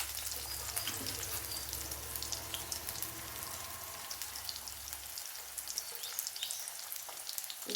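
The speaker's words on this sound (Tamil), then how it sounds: "வெங்காயம் வதங்கட்டும்" Shallots cut in halves sizzle and soften in oil in a pan for Tamil-style fish curry, a continuous near crackle with light popping and occasional stirring, no voices.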